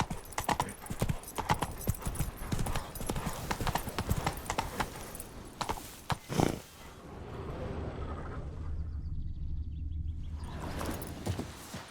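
Roach the horse clip-clops over hard ground in The Witcher 3: Blood & Wine, with a fast, dense run of hoofbeats up close that ends in one heavy thud, then gives way to a quieter steady rumble with occasional light steps.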